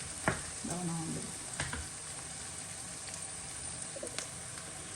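Onions browning in a pan for a Jaffna-style mutton curry, a soft, continuous sizzle with a few stirring knocks, fairly quiet, and a brief bird coo audible early on, with no voices.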